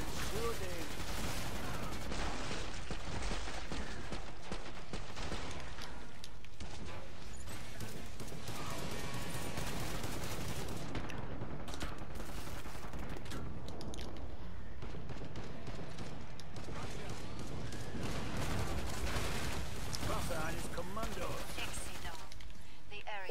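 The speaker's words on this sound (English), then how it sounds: "Excellent shooting." Constant loud gunfire and impacts from the co-op shooter game Killing Floor 2, with dense bursts, crashes and chaotic combat noise filling the scene throughout, and voices mixed in at moments.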